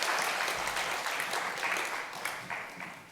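A church congregation applauding together after a prayer during a Sunday worship service, a steady wash of many hands clapping that holds for about three seconds and slowly thins toward the end.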